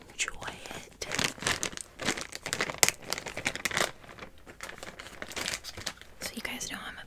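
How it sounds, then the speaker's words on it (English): A crinkly plastic bag is handled and unpacked up close around thrifted items, giving loud irregular crackling and rustling bursts, with soft whispered speech in places. "there's gonna be some crinkly bag sounds in this"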